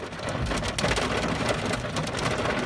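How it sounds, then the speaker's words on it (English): Hailstones hammering down in a worsening thunderstorm, a continuous loud rattle of many close impacts with no break and no talking. "Here comes hail."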